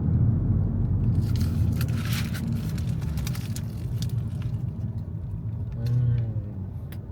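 A car rolls steadily along a road with a constant low engine and tire rumble and faint scattered rattles inside the cabin, swelling briefly near the end.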